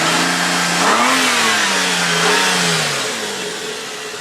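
A Nissan Quest minivan engine runs close by, rising in pitch in two gentle revs before easing back down toward a steady idle, loud and continuous.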